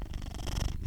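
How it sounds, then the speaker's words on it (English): An old male cat purrs close by in a steady, rhythmic, low rumble that stays fairly loud for the whole short stretch, with no voices. "He's purring."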